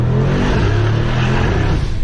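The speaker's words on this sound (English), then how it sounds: "we also have a special exhaust on this, and the sound is great" A Brabus XLP Rocket with a 900 horsepower 4.5 liter engine and special exhaust revs hard, a loud, close, deep roar that holds steady and dominates throughout.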